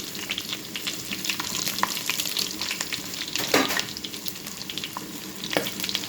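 Mustard seeds, cumin, garlic and broken dried chili sizzle in hot oil, a close, continuous crackling fry with scattered sharp pops and spatters throughout.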